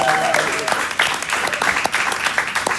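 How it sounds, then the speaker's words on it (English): A rally crowd at a town hall applauds the panelists with loud, dense clapping and a few cheers, while a voice talks over it at times. "give her a round of applause"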